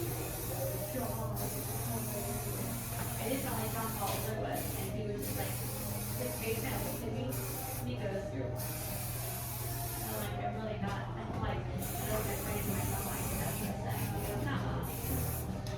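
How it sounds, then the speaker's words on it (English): Steady hissing spray from a hairspray can, close and continuous for many seconds, with brief pauses and a low hum underneath. "you want to make sure that you're spraying about as far as the can would fold against your head"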